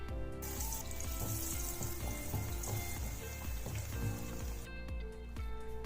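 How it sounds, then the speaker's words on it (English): Battered prawns crackle and sizzle continuously as they deep fry in hot oil, a dense, steady spatter of tiny pops at close range. "deep fry these prawns in hot oil for 3 minutes or until the batter is puffed and golden"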